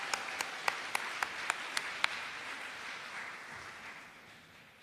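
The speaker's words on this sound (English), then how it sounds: "Let's welcome Sandra with a round of applause," Audience at a student recognition ceremony gives a singer a round of applause, a soft steady patter of many hands with a few sharp, closer claps standing out early, then fading gradually.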